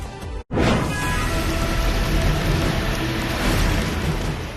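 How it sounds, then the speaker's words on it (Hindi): Heavy monsoon rain and floodwater surging across the Kalka–Shimla national highway in Solan, Himachal Pradesh: a loud, continuous broadband roar of rushing water after a brief cut near the start, with no voices. "भारी बारिश के चलते सड़क पर सैलाब दिख रहा है।"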